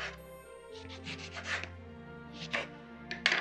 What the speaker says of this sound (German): die Orangen und die Zitronen schneide ich mir jetzt einfach in Scheiben